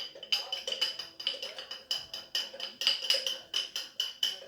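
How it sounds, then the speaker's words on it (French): A spoon stirring flour and water for a sourdough starter in a glass jar, giving regular scraping clinks against the glass, close and steady. "on remue."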